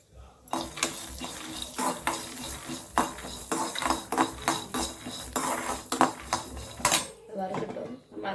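Peanuts dry-roast in a pan for chutney, rattling and scraping in rapid bursts as a spoon stirs them against the metal, close and busy with a quiet ending.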